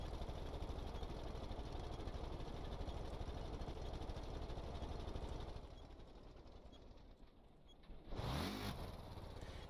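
A video game truck engine drones loudly at high revs, then drops off before a sharp rise as it revs again, with revs climbing high from a clutch issue.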